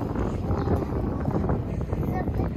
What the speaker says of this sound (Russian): Так ветрено стало.